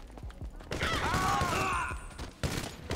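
Gunfire crackles in GTA 5 as several sharp shots and a burst ring out amid chaotic game noise, with a whining, warbling effect in the middle and a voice talking faintly underneath.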